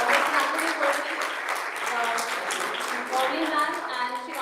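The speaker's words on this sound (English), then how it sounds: "Can we have a round of applause for all our panelists today?" An audience claps for a panel of speakers at a literature festival, a dense, even round of applause lasting throughout with a voice talking over it.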